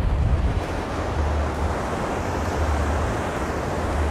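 Waves wash and break continuously on a sandy Black Sea shore, a steady rushing surf with wind buffeting the microphone, close and fairly loud with no voices.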